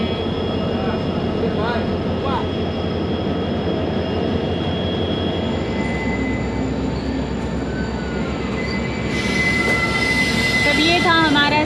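A passenger train on the Agartala to Guwahati line pulls away with steady rolling rumble and clatter, wheel squeal and a horn-like tone rising near the end, heard from on board.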